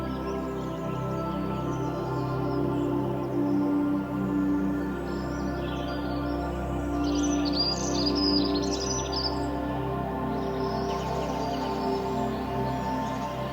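Wild birds chirp and sing in the wilderness, with scattered high calls clustering midway through over a steady, even background drone.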